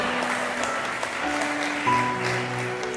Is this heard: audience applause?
yes